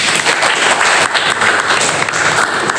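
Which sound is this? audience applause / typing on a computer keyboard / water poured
audience applause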